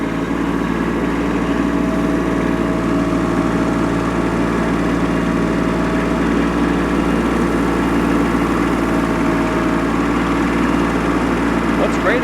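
A compact tractor with a front end loader runs nearby, its engine a constant, loud droning hum that holds steady throughout, with no breaks.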